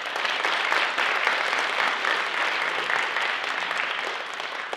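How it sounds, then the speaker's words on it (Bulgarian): Audience applause for musicians at a theatre performance, a dense steady clapping that holds at an even level throughout with no voices above it. "Аплодисменти за музикантите ни!"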